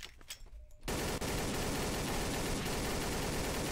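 Sustained rapid gunfire from a gun in the shooter game Codename CURE blasts loud and continuous for about three seconds after a short quieter lead-in.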